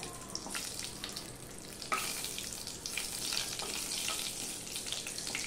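Dry red chilli and torn bay leaves fry in hot oil, a steady close sizzle with occasional crackling spikes that carries on without pause.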